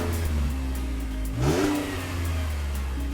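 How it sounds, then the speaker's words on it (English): A 2018 Buick Enclave's 3.6-liter V6 hums at a steady idle, then revs briefly in one rising swell before settling back, heard from inside the cabin. "a muted engine note"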